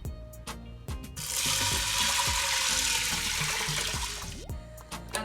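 Four cups of water pour from a tap into a pot of washed gungo peas for cooking, a steady rushing gush lasting a few seconds between soft clinks and handling knocks, with no talking.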